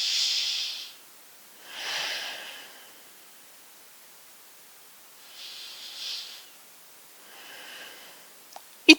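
Slow, deep breaths during yoga practice, four long airy inhales and exhales separated by pauses, close and breathy in a quiet room, ending with a couple of sharp clicks.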